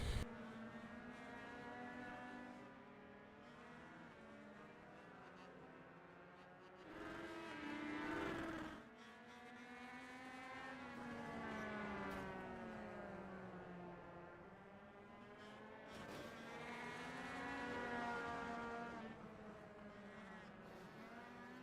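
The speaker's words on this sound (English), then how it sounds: "These cars are a blast to drive. They sound like little angry bumblebees." Small Legend Series race car engines whine and buzz continuously, rising and falling in pitch as several cars race past, a droning, layered motor sound with no talking.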